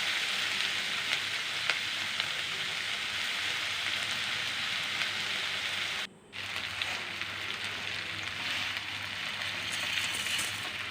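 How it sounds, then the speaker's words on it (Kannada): Chopped vegetables sizzle in hot oil with turmeric for seasoned vermicelli bath, a steady close crackling hiss throughout with one brief dropout midway. "ಎಣ್ಣೆಯಲ್ಲೇ ಸ್ವಲ್ಪ ಚೆನ್ನಾಗಿ ಫ್ರೈ ಆಗಬೇಕು"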